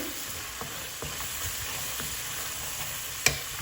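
Spices sautéing in a pan give a soft, steady sizzle close by, with a few faint clicks and one sharp tap near the end, no voices.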